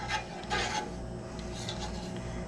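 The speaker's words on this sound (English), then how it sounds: "Now we're just going to incorporate those spices on in." A spoon stirring spices into Campbell's tomato bisque soup in a pot, producing rasping scrapes in a few short bursts, then quieter steady rubbing up close.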